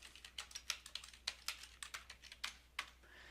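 Quick, irregular clicks of fingers typing on a computer keyboard while project details are entered, crisp and close, with no voice.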